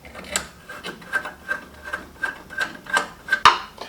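A headlight mounting screw on a Jeep XJ is worked loose with a hand tool, giving a series of about nine short, evenly spaced rasping turns up close, ending with a sharper click.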